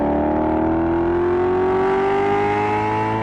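The Ferrari-built 4.7-litre, 440-horsepower V8 of a Maserati GranTurismo S holds a loud, close, continuous rev whose pitch climbs steadily, with no voices.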